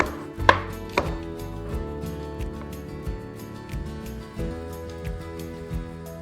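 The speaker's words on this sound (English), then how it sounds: "let's slice 300 grams of cremini mushrooms for that extra meatiness" Knife slicing through cremini mushrooms on a cutting board, with steady, evenly spaced chops: two sharper cuts at the start, then a softer repeated rhythm, close and clear with no talking.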